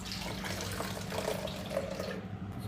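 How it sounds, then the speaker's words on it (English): Milk poured from a container into a shaker for a homemade strawberry horchata iced latte, a faint, steady liquid stream with gentle gurgles, heard alone at low level. "Pour my milk in here."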